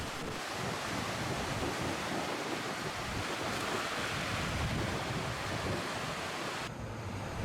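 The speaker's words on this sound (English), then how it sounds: "the surf is right up on the beach" Pacific surf breaking on a West Coast Trail beach, a continuous broad roar of waves mixed with gusty wind buffeting the microphone, with no voices.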